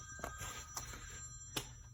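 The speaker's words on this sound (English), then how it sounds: "that's my phone." A phone rings with a tonal electronic ringtone, a steady trilling tone with soft pulses, heard indoors on a converted MC8 bus.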